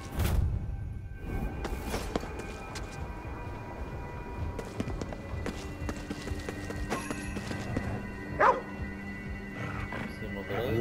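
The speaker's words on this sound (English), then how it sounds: "What's he barking at?" A dog barks in the Ghostwire: Tokyo video game, a few sharp yips standing out amid busy game ambience, footsteps and clattering effects, with no speech over it.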